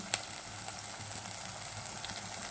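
Cumin seeds sizzle in hot oil over fried ground masala paste for a home-cooked mutton dish, a faint, steady crackle with a sharp pop near the start and scattered light spits throughout.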